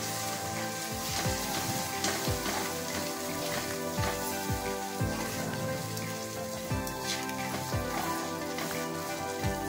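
Masala sizzling and frying in a pan while being stirred, a steady crackle with rhythmic scraping strokes running throughout, close and even, with no talking.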